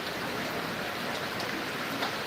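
Steady rain pours down in a dense, even hiss of countless drops striking surfaces, continuous and fairly close throughout, with no voices.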